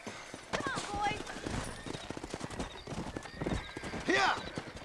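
Rapid hoofbeats of a galloping horse in Red Dead Redemption on Nintendo Switch, mixed with a whinny near the end and a voice talking over it, with a game-like soundtrack feel.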